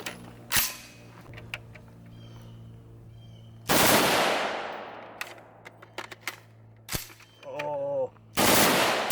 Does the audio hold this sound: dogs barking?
no